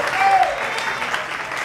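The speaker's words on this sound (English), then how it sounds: "Give yourself a round of applause." An audience at a comedy show in a lounge and grill claps steadily for a short stretch, a dense, even wash of applause with faint voices mixed in.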